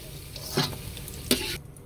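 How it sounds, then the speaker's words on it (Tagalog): Tofu frying in a pan with a steady, quiet sizzle, broken by two brief louder stirring scrapes, no talk. "ipirito muna natin yung tokwa"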